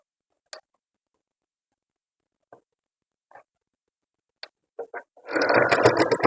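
A sewing machine stitching a blouse back neck gives a few sparse, faint clicks and taps, then starts a brief, closer burst of rapid mechanical stitching at the end.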